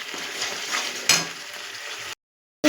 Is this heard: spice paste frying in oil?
yes